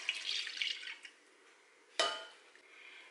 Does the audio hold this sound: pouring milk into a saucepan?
yes